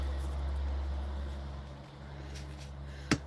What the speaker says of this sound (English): That's a big old truck going down my road.